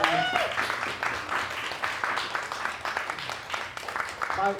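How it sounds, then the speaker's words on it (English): An audience gives a round of applause, a steady crackle of clapping with some voices mixed in throughout, moderately loud and fairly constant. "Give them a round of applause."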